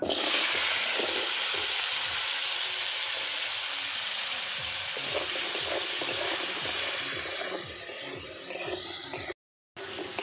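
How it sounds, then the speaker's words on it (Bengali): Potato pieces sizzle steadily in hot mustard oil with salt in a pan, a loud, dense frying hiss that is stirred now and then and eases slightly toward the end before a brief cut. "আলুটা আমি ভালো করে ভেজে নেব"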